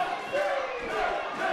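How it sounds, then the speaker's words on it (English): Crowd at a live wrestling show in the West End Club, a steady wash of cheering and shouting that stays loud and close throughout, with no clear break in the noise. "Listen to the crowd here in the West End Club. They're on fire straight from the first match"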